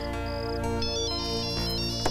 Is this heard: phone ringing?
yes